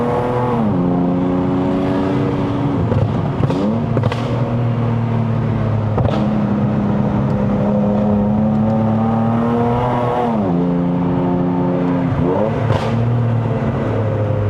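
A Lexus RC350 V6 engine heard from inside while driving a mountain road in Malaysia, loud and continuous, with repeated rev sweeps and quick throttle blips on downshifts.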